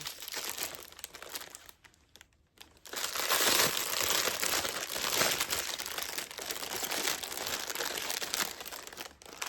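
Gift parcel packaging is torn open and crinkled up close, with bursts of loud rustling and crunching plastic after a brief quiet pause, no talking.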